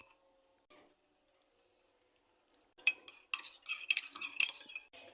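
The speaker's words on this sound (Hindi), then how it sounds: "थोड़ा थोड़ा करके आपने ऐड करना है और इसको मिक्स करते जाना है।" Cornflour slurry being stirred into thickening homemade ketchup in a pan, a spoon scraping and clinking in quick irregular bursts after a quiet start, close and fairly loud with no talk.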